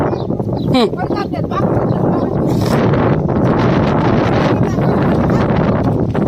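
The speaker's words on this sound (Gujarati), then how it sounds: "પવન આવ્યો" Wind blows hard across the microphone in a steady, loud rush that fills the clip, with voices talking under it.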